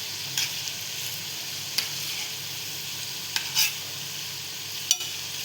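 Potato fingers frying in hot oil, a steady close sizzle and hiss with a few brief sharper crackles and clinks, alone with no talk.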